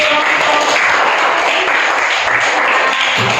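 Audience applause in a classroom session on coding and generative AI after students demonstrate a fruit-catching game, a dense, steady wash of clapping lasting a few seconds with no talk over it.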